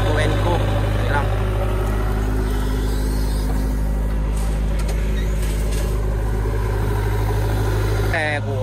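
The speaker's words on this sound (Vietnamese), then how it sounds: "Xe của anh Sơn được trang bị khối động cơ máy 33 các bạn nhé" The 33 hp engine of a three-wheeled cargo truck used to haul sand and stone runs with a steady, loud, low rumble throughout, with a voice heard over it.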